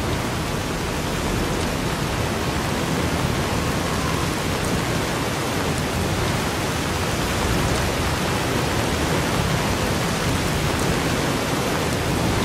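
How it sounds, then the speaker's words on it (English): A dense, loud rainstorm from a weather mod in Fallout: New Vegas roars as a continuous broadband downpour, steady and unbroken from start to finish, with no voices. "Here's the loud storm you've been waiting for."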